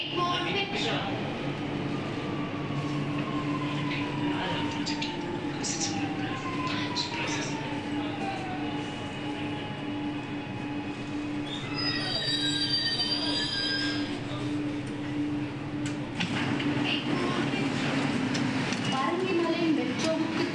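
Chennai Metro train running between Thousand Lights and Egmore, with sustained wheel squeal and a steady rumble throughout, rising briefly around the middle; voices are faintly audible.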